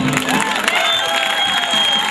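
A festival crowd cheers and claps loudly in a sustained burst, shouts and whoops rising over the steady roar.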